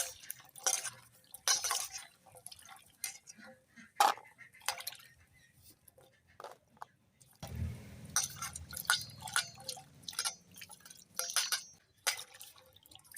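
Jackfruit seeds are washed by hand in a bowl of water, with soft sloshing, drips and stirring in quiet, irregular bursts and a fuller swish of water partway through.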